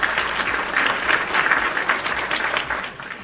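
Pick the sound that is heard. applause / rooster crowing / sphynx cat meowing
applause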